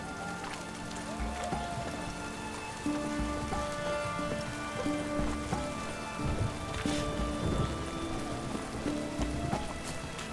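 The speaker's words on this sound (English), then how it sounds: "It's raining, of course it's going to be damp." Steady rain patters across surfaces throughout, a dense hiss with scattered droplet taps and a faint musical drone underneath, in the video game The Witcher 3.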